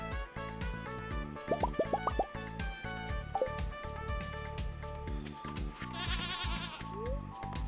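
Stardew Valley goat bleats, short and nasal, come in a quick burst over looping background music with plopping, bubbly sound effects.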